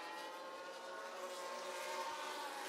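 Engines drone steadily at a faint level, a continuous buzzing whine of race cars in a racing video game at the Singapore circuit, heard from a distance, with no talking.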